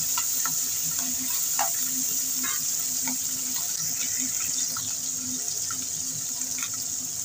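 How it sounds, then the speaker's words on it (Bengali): Fish rubbed with salt and turmeric fries in hot mustard oil in a wok, giving a steady, close hiss and sizzle with scattered crackles and pops throughout. "মাছগুলো ভেজে নেব"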